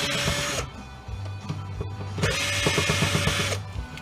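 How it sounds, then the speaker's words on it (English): Power drill backing screws out of a Baumfolder paper folder gate being scrapped for metal, with two bursts of whirring motor and a rattling pause between them, close and fairly loud. "Let me see if I can get these screws out."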